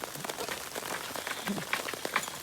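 Rain falls steadily outdoors at night around a light set up to lure flying beetles, a dense even patter of drops on surfaces with a few sharper close hits, continuous and fairly loud, with no talk.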